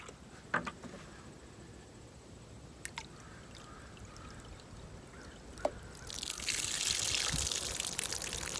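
Water spills and trickles over a pail's front rim while degreasing new coyote traps, with a few sharp knocks early on, then a louder steady pouring rush toward the end.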